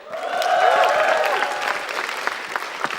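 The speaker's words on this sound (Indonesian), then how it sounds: "Langsung tepuk tangan saja untuk Akbar" An audience applauds a performer at a campus anecdote-comedy show, loud and full at first with cheering tones, then thinning into scattered claps.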